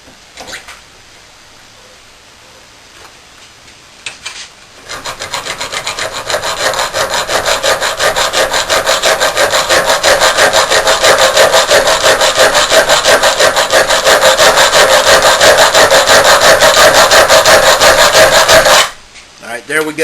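An MXZ saw cuts hardened, coated metal with rapid, harsh rasping strokes that start after a quiet lead-in, grow louder and more forceful, and run continuously for about fourteen seconds before stopping abruptly near the end.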